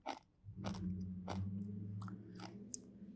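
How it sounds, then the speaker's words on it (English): Plain sauerkraut is chewed close to the mouth: several crisp, crunchy bites repeat in an irregular rhythm over a low, wet mastication sound. "Good crunch."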